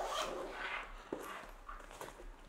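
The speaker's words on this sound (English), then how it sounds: "Nice zipper." A zipper being pulled along a pocket on a HORIZN Studio travel bag, a few short raspy runs close up, with one sharp click partway through and no talking.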